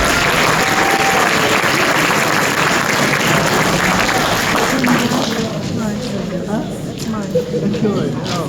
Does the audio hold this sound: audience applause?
yes